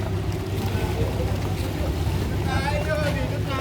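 Fishing boats at Subic fish port in Zambales chug with a steady low engine rumble under wind noise and water, while a voice talks over it.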